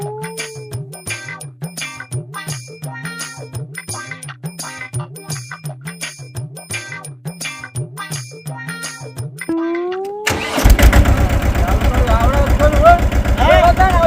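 A tractor engine rumbles to life with a loud burst, then settles into a steady, close idle after a stretch of rhythmic, tinkling background sounds.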